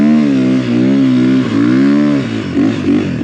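A loud engine works hard on a snowy mountain climb, revving steadily with a strong, rising and falling harmonic drone, close and continuous throughout with no talking.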